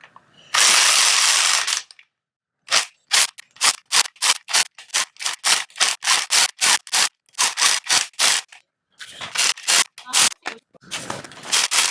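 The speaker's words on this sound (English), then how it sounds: "I'll show you guys how I do it with the impact gun" An impact gun works on a BMW E46 limited-slip differential: a loud initial burst, then a long run of rapid, evenly spaced rattling hammer pulses, ending in two more short bursts, close and without talk.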